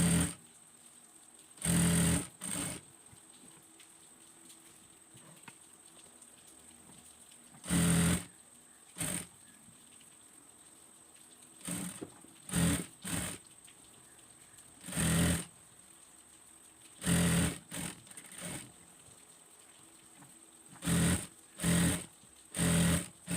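A sewing machine stitches a child's abaya in a series of short whirring bursts separated by quiet pauses, some bursts longer than others, close and clear.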